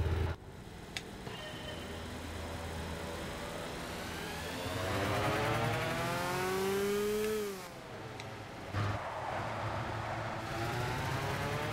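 A 125 go-kart in the Gran Turismo 6 kart championship revs up with a rising buzzy engine whine that climbs in pitch, drops briefly at a shift, then surges again, loud and close.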